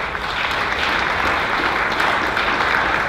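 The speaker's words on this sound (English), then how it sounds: "Give him a big round of applause." A big round of applause from a conference audience welcoming speaker Paul to the stage, a steady wash of clapping at moderate loudness throughout.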